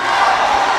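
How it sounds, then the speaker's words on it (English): A loud Divine crowd chants in unison at a collegiate athletic opening-day game, mocking the USD Tigers' chant, a dense, steady roar of many voices with no pauses. "The Divine crowd mocking the very known chant of the USD Tigers"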